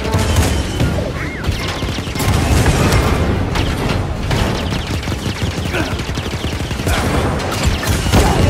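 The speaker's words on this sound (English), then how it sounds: "So that fires the cannons." Heavy rapid AT-AT cannon fire in Star Wars Jedi: Fallen Order, dense booming blasts and crashes pounding continuously at high volume with no talking.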